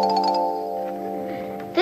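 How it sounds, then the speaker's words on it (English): A ship's bell is struck once and rings out with a bright metallic tone that slowly decays, followed by a brief new sound at the end. "It's a ship's bell, Barney."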